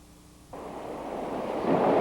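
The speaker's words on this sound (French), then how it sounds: "sans hésitation, Richard s'avance dans le courant vif." A fast-flowing river current where a man wades into the stream, a rushing broadband wash that starts abruptly and grows steadily louder and closer, with no talking.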